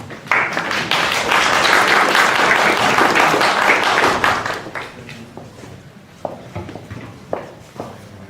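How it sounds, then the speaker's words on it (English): Audience applause for a team taking the stage at the NASA Space Apps Challenge in Zurich, a dense burst of clapping for about four seconds that thins into scattered claps and thuds. "let's give a round of applause for them"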